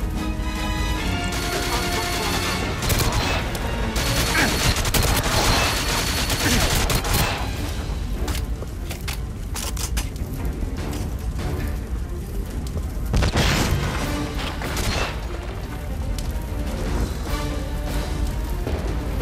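Video game gunfire from a firing squad of about five enemies in Goldeneye 007 on Wii, Severnaya Bunker level: bursts of shots and crashing impacts over background game music and effects.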